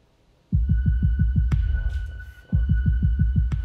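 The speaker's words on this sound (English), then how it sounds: "Listen to your heartbeat." Rapid, steady heartbeat thumps, loud and close, used as a sound effect in a crime drama series; the pulsing runs alone with a brief gap in the middle before resuming at the same pace.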